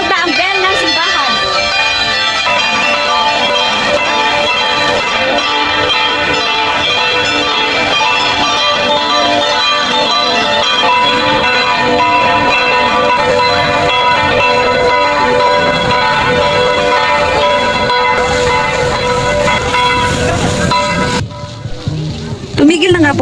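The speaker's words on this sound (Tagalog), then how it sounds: "Tumunog na ang bell ng simbahan." Church bell ringing at six o'clock on the plaza of the Antipolo church, a sustained ringing drone with overlapping tones under constant crowd and outdoor noise, ending abruptly near the close.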